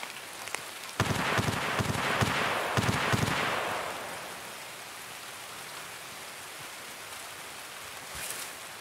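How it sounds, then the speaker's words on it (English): Rain patters on a surface during an Escape From Tarkov game, a heavier burst with sharp cracks at first, then settling into a softer, steady hiss. "It's just the rain, man."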